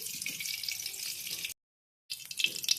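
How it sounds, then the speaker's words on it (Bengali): Mustard oil hitting a hot wok (kadai) while cooking bitter gourd and pumpkin fry: a steady bright hiss that cuts out abruptly to silence for half a second, then resumes slightly louder. "কড়াই গরম হয়ে গেছে, এবার কড়াইয়ের মধ্যে দিয়ে দেওয়া হবে সর্ষের তেল"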